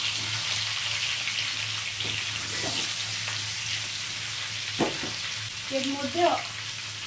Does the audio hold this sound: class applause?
no